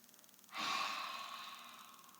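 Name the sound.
breathing in during Pilates exercise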